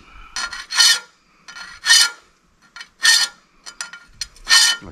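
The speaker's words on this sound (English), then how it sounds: "first thing I gotta do, get this saw blade sharpened up" Rhythmic rasping of a file drawn across the teeth of a worn chainsaw-style saw blade, several bursts of strokes with short pauses between, close and fairly loud.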